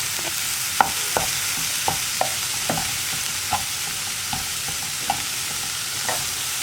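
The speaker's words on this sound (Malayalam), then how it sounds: "ഇതെല്ലാം ചേർത്ത് നന്നായിട്ടൊന്ന് കുക്ക് ചെയ്തെടുക്കുക." Cabbage and mixed vegetables for a momo filling stir-fry over high flame in a pan, giving a steady close sizzle with a dozen sharp scraping spoon strokes at an uneven rhythm and no voices.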